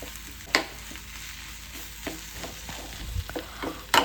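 Fried onion and boiled potato masala is stirred in a pan for masala dosa filling, a soft low sizzle broken by occasional scrapes and knocks of the spoon.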